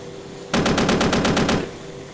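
The chin gun of an AH-64D Apache Longbow helicopter fires in Arma 3, one loud burst of about ten rapid, evenly spaced shots lasting roughly a second and standing alone.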